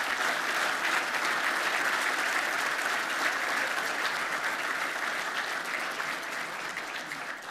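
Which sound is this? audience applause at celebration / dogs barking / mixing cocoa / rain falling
audience applause at celebration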